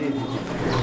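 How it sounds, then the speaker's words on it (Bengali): A brief, close pigeon coo comes from single fancy pigeons and young squabs resting in a large fancy pigeon farm in Jhenaidah district. It is a soft, throaty call, heard for under a second. "রকি ভাই, এটা হলো মানে সিঙ্গেল কবুতর প্লাস কিছু বাচ্চা কবুতর"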